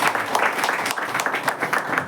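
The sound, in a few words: audience clapping loudly at prayer meeting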